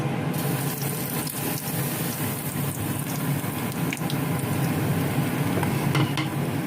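Hot cooking oil sizzles steadily in a pan at lunchtime, a dense continuous crackle with faint stirring clatter, close and fairly loud throughout.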